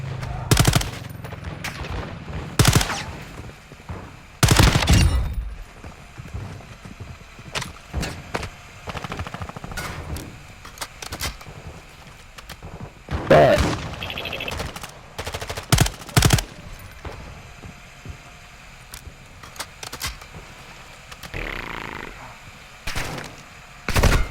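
Gunfire in Call of Duty: repeated bursts of automatic weapon fire and single gunshots, some loud and close, others fainter, spread irregularly across a tense combat scene with occasional radio-style voices.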